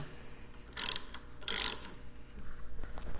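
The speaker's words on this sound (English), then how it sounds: "tighten this bolt up." A ratchet wrench tightens the hinge bolt on a Kuryakyn Longhorn motorcycle highway peg, giving two close, loud bursts of rapid ratcheting clicks followed by quieter handling noise.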